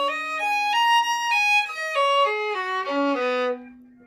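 A violin plays a short whole-step note pattern starting on B, several clear bowed notes stepping up and back down in sequence before one last held tone, close and solo.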